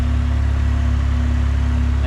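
A K-swapped Honda Civic EM2 engine idles steadily up close with a loud, even low hum and a constant pulse, and no voices are heard.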